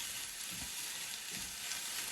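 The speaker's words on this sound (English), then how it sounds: "And it's just making a light sizzle." Leeks and spinach sizzle gently in a frying pan over modest heat, a steady soft crackling hiss with a couple of faint stirring bumps, close and alone without voices.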